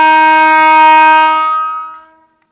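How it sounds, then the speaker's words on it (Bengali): An express train arrives at night in cold, foggy conditions, sounding a loud, sustained horn blast with rich harmonic tones. The horn cuts off and fades away over about two seconds, with no talking. "রাত্রিবেলা আবার ট্রেনও আসছে দেখুন।"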